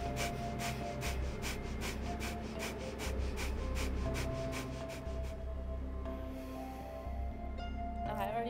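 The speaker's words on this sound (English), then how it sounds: "it's a noisy breathing, so you can make noise" Noisy deep belly breathing exercise: a run of loud, rhythmic breaths pushed in and out audibly, quickening pulses then a longer slower exhale, close and alone without talk.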